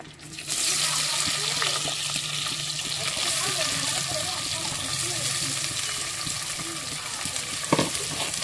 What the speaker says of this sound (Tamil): இதுல நாம வெட்டி வச்ச கேப்சிகத்தை வந்து சேர்த்துக்க போறோம்.